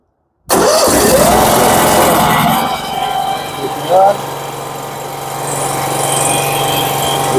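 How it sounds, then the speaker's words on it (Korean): The engine of a used 2005 FT chemical fire pump truck with 14,800 km and a water cannon cranks and fires up abruptly, runs roughly, then settles into a steady close idle, with people speaking over it. "아까 시동이 걸렸었는데 다시 한번 해보도록 하겠습니다"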